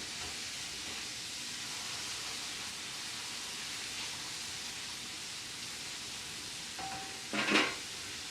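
Gluten-free ravioli sauté in a pan with a steady, soft sizzle throughout, and a brief louder crackle near the end.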